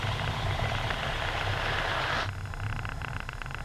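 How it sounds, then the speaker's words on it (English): A Cessna 172 light airplane taxiing out: a steady, loud engine and propeller drone, close and continuous, with a change in tone partway through. "We're actually just taxiing out right now."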